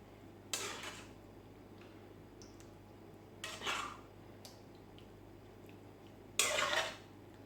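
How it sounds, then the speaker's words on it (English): Beef and black bean sauce being served with utensils: three short clattering scrapes of metal against a pot or dish, spaced a few seconds apart over a low steady hum, fairly close. "Dish this up now."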